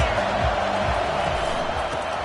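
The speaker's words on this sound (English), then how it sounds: "They challenge this crowd to bring the energy, and I'd say they're doing that." Stadium crowd at a college football game in the NCAA 25 video game, a loud, dense, continuous roar of cheering without pause.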